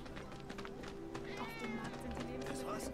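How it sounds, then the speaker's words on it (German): A cat meowing in Final Fantasy 7 Remake, several short mews sounding close by, with game music and running footsteps underneath. "War das nicht gerade ein Maunzen?"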